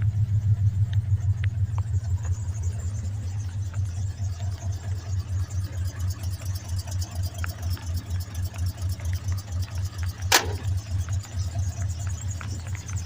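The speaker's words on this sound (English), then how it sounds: "There you go, it's running now, idling." A Ford truck engine idles after a cold start, either a 1995 F250 OBS Powerstroke diesel or a 1982 F100 3.8 V6. Its low, steady, pulsing rumble runs throughout, with one brief sharp click near the end.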